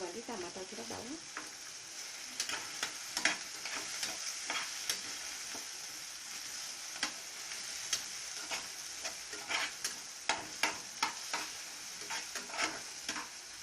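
Garlic cloves sautéing in a pan, steady close sizzle broken by irregular sharp pops and ticks, growing busier toward the end, with no talk.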